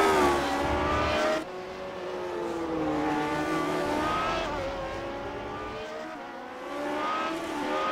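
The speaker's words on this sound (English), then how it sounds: "That car going by him was Sage Karam" Race cars in the iRacing sim at Circuit Gilles Villeneuve scream past with high, rising and falling engine whine, one car sweeping by loudly before the next, with gear shifts heard and no speech.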